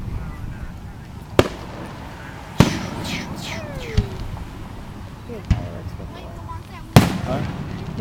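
Outdoor fireworks show at a summer weekend festival: several sharp distant bangs spaced a second or more apart, some with crackling tails, over steady crowd murmur while people chat nearby.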